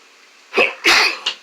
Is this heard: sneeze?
yes